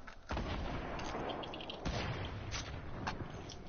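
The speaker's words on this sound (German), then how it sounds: "Schieß weiter drauf, Leute, schieß weiter drauf!" Gunfire rings out in the video game Fortnite as a dense, continuous burst of loud shots with sharp cracks layered over rumbling booms, running close and alone for several seconds.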